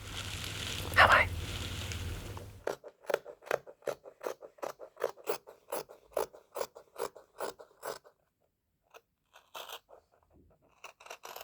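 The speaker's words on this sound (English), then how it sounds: "So now let's chop up our fabric and hope we don't mess up" Scissors snipping through dress fabric in a long run of crisp, regular cuts, fairly close and clear, with a few scattered snips after a short pause and a brief stretch of other handling noise at the start.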